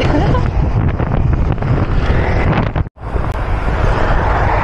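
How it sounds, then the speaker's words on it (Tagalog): Strong wind buffets the microphone during a bicycle ride toward a Pacific view deck at Dingalan, a loud, continuous rough roar that briefly drops out for a moment near the end. "Habang napakalakas ng hangin, ito ang view"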